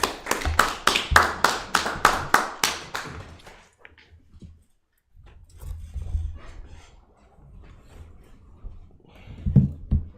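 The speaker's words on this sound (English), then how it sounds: "clap it up for the Lord" A congregation claps in a steady rhythm for the Lord at a Bible scripture study meeting, about a dozen sharp, loud claps over three seconds, then quiet room noise and low murmuring voices.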